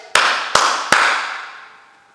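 Three sharp hand claps, evenly spaced and fairly close, each ringing out with a long reverberant tail in a live room, with no talking over them.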